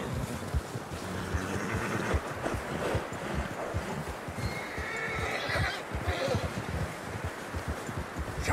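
Horses in Red Dead Redemption 2 whinny and snort, struggling through fresh snow amid steady crunching hoofbeats and rustling, with a constant background rush like wind; a voice murmurs faintly.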